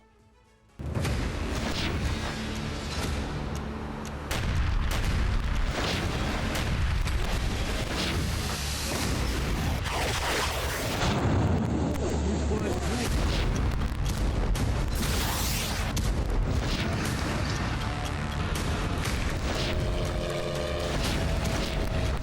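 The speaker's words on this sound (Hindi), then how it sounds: "रूस की जमीन पर फिर धमाके" Loud, continuous rumbling blasts and crackling roar from explosions on Russian soil in the Russia–Ukraine war, dense and chaotic, with booming bursts layered over a constant heavy din and no speech.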